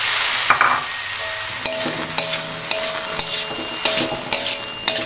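Basreng, fried fish balls, sizzle in a pan with fragrant spices while being stirred, the steady frying hiss broken by regular scraping clacks of a utensil against the pan, close and loud.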